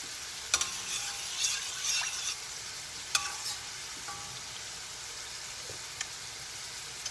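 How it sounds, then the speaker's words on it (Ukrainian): Meat rolls frying in a pan with soy sauce give a quiet, steady sizzle with occasional sharp pops and clinks of a utensil scattered through. "Чекаємо, поки наш все обсмажиться"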